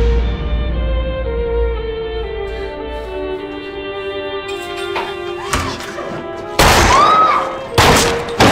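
Gunshots in a television drama shootout ring out as a few sharp, loud bursts late in the scene, one longer volley among them, over sustained tonal music and a low rumble.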